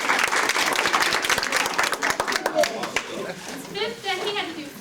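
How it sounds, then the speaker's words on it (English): An audience applauds in a hall, heard as steady, dense clapping close by that fades after a few seconds while a voice starts speaking over the tail end. "Let's give him another round of applause."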